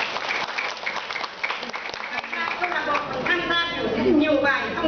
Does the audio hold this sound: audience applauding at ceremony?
yes